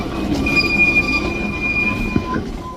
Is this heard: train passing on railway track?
yes